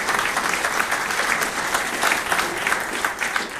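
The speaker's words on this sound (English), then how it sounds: "So how about a wee round of applause for the publishers of the Scots magazine?" An audience claps steadily for the publishers of the Scots Magazine at a talk about Tom Weir, a dense, even round of applause filling the room throughout with no talking over it.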